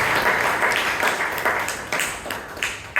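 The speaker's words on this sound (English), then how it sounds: "So please give a round of applause for it." Audience at a Toastmasters club meeting clapping, a modest round of applause from a small group with distinct individual claps standing out in an uneven rhythm.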